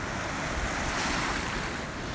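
Sea waves washing onto a beach make a steady, broad roar of surf with wind rushing across the microphone, continuous and fairly loud with no voices.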